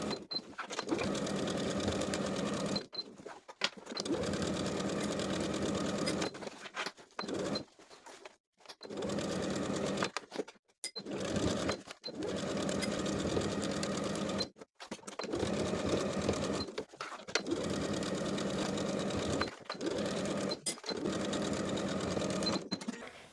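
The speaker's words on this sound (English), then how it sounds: "Then we're also going to top stitch all along the side and top edges with about 1/4 to a 3/8 inch seam allowance." A sewing machine top stitches along the side and top edges of a pair of overalls, running in long steady bursts separated by short silent pauses, close and clear with no voices.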